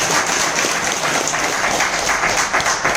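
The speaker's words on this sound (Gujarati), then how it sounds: "મારા જોરદાર તાળીઓ" An audience at a hotel gathering in Maninagar breaks into a dense, steady round of applause, loud and continuous throughout with no talking over it.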